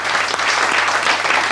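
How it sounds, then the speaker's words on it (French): Studio audience applause on a 1986 French television show, a thick, steady roar of clapping heard alone and at full strength throughout. "On peut applaudir, applaudir"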